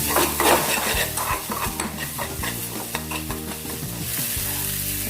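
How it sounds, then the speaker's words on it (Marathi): Garlic paste sizzles in hot oil over onions in a pan while cooking a taro root (arbi) curry. It makes a steady, close frying hiss with stirring, under background music. "यामध्ये लसूण त्याचा पेट घालणार आहोत आपण एक चमचा आपण छान भाजून घेणार आहोत"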